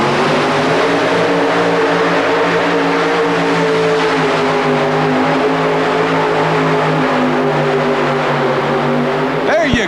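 A modified 4WD pulling truck called Justice making a full pull in the St. Paul Civic Center in 1991, a loud sustained engine roar holding a steady, slowly rising drone for the whole run, with an announcer talking over it.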